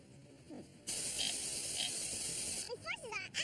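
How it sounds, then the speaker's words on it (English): A bicycle's rear gear clicks and ratchets as the chain turns it and drives the wheel, a close mechanical whirring with a voice speaking briefly near the end. "the chain puts a torque on the gear back here. That makes the wheel go around."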